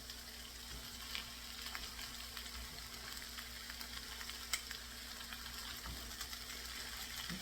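Noodles sizzle and fry in a hot pan, a steady broadband hiss with small crackles and a few faint stirring clinks throughout, close up with no talking.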